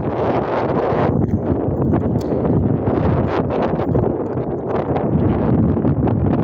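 Strong wind buffets the microphone while biking in a steady, loud roar, with gusty rustling and no voices heard.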